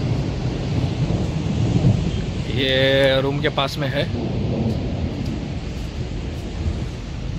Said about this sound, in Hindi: ये देखो पूरा बारिश आके पार्किंग में भी पूरा बारिश ही बारिश हो गया था।